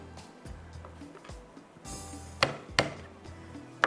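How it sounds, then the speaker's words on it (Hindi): Fresh garlic being chopped by knife on a board in a kitchen while making tomato chicken soup. A few quick, crisp chops come in a loose cluster toward the end, close and clear. "चॉप कर लेती हूँ"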